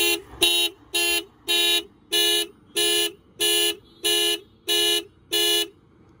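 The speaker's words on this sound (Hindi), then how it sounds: "ये दो दो जो बटन है मतलब लॉक एंड अनलॉक का ये दोनों आप मतलब एक साथ दबाओगे तो एक्चुअली मतलब ये हॉर्न आएगा" A Tata Punch car horn honks in a steady repeating pattern, set off as a panic alarm by pressing the key fob's lock and unlock buttons together: nine or ten loud evenly spaced blasts, close by with no talking.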